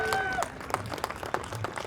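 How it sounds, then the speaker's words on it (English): Crowd at an outdoor protest rally applauds a speaker, a dense mix of claps and cheers with some voices shouting over it, fairly loud and steady throughout. "keep it going for Mimi Planas."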